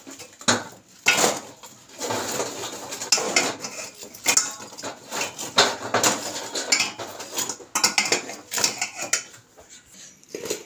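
Spoon or ladle clinking and scraping against a metal vessel while ingredients are stirred into hot jaggery or sugar syrup for Sankranti gorumitilu sweets, an irregular series of close, fairly loud clatters and scrapes with no talking.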